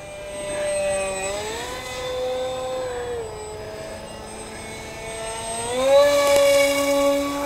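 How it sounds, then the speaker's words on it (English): A small radio-controlled EF-2000 model jet whines overhead, its tonal engine pitch rising and falling as it manoeuvres, then climbs louder near the end. It sounds fairly close and carries on continuously with no speech. "It's a very responsive little jet."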